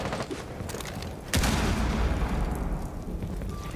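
Gunfire in a shooter video game: a sharp shot at about 1.3 seconds sets off a dense, sustained volley of rattling fire and low booms that continues loudly to the end.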